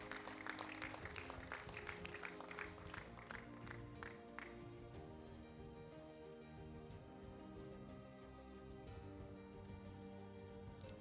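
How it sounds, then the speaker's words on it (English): Brief, scattered clapping for a person at a church healing and salvation service. It is strongest in the first few seconds and fades under steady sustained music. "Let's give a round of applause for Jonathan."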